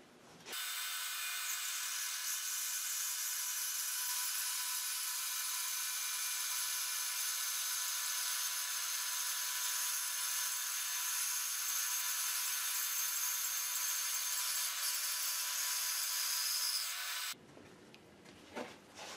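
A band saw with a Laguna carbide tooth blade, about 3 teeth per inch, resaws a wide wooden board, giving a steady high-pitched cutting whine that starts abruptly, runs unbroken for about seventeen seconds, then stops.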